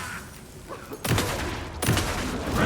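Enemy shotgun fire in Alan Wake 2, two loud blasts about a second apart, each ringing out with a broad noisy tail over quieter game ambience.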